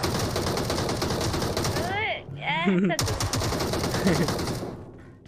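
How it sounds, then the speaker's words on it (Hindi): Rapid bursts of gunfire in BGMI rattle over excited talking, with a brief pause in the shooting before it resumes. "मोमो नीचे गोलियां मार रहे"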